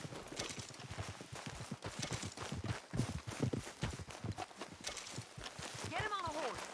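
Horse hooves clip-clop at a walking pace in the Red Dead Redemption 2 game world, mixed under steady male dialogue, with a short horse whinny rising near the end.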